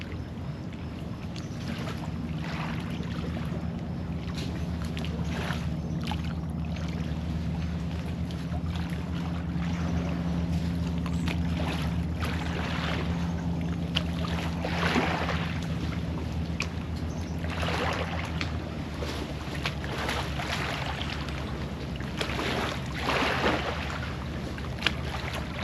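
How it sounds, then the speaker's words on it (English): Lake water washes against the shore at Boyd Lake in a soft, continuous lapping, with faint wind noise and occasional splashes over a low steady rumble, no voices. "listen to the water wash against the shore"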